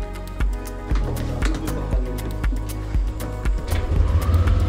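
A car at a villa in Ubud, Bali, with a row of evenly spaced sharp clicks from inside the vehicle, followed near the end by a sudden, louder low rumble as the engine turns over and begins running.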